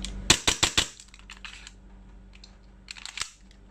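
Four sharp, snappy shots from an EMG Hudson H9 pistol fire in quick succession, then two fainter clicks follow after a pause.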